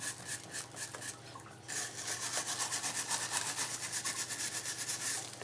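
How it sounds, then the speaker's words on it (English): A tool scrapes back the surface of a hypertufa piece in quick repeated strokes, a steady close rasping rhythm that speeds up and holds for several seconds. "I actually don't like it, so I'm going to scrape that back."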